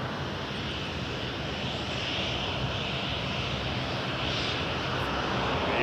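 An airplane at Toronto Pearson Airport produces a steady, loud, broadband engine roar that continues without a break and swells slightly toward the end.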